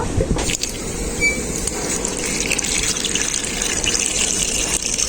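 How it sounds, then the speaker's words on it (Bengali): Water pours into a kitchen wok in a steady, loud, close gush that keeps going without a break. "এরপর আমি কড়াইতে জল দিয়ে দেব"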